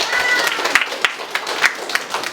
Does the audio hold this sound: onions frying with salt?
no